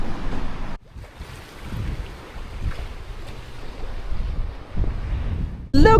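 Sailboat under mainsail moving through a narrow channel in the Exumas, Bahamas, with steady close wind rush and water wash against the hull, broken by a brief lull and a sudden gusty buffet at the end.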